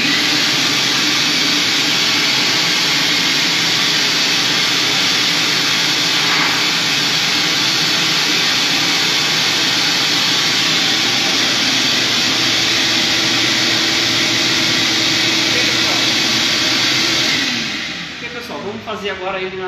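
A RIDGID wet/dry vacuum cleaner running on sawdust, a loud, steady roaring whoosh that holds evenly throughout before the motor winds down near the end.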